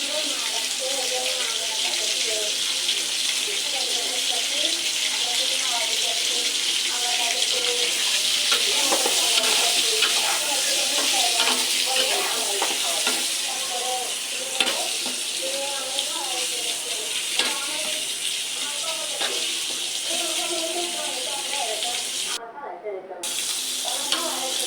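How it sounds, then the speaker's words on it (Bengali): Turmeric, salt and spices frying in a pan make a steady sizzle with scattered crackles, and a voice talks intermittently over it. "এখন এগুলো দিয়ে একটু ভেজে নেবে।"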